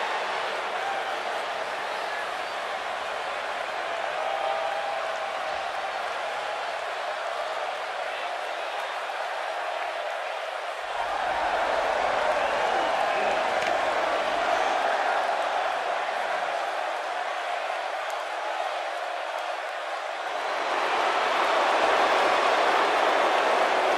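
A wrestling arena crowd roars and cheers in a continuous dense wash of noise that surges louder partway through and again near the end, with announcer talk over it.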